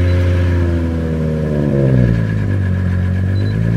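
Car engine with freshly replaced coil packs, on a CL9 or JZX100, catches and runs, its revs rising and falling at close range, loud and steady with no talk.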